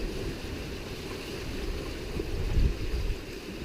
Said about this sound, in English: I think we're getting some 5-foot waves here today